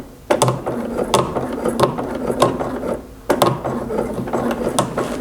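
Sewing machine running in fast, rattling bursts along a folded fabric edge, with a short pause near the middle before the stitching resumes, close and steady.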